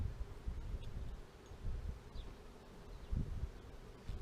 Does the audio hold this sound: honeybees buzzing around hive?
yes